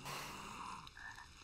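Frog croaking in the Lilo & Stitch video game, a short, close, clear croak standing alone with no talk.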